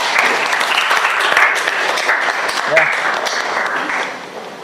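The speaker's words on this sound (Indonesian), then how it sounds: "tepuk tangan semuanya" Classroom of students applauding together, a dense sustained burst of clapping that stays loud before tapering off near the end, with a brief voice over it.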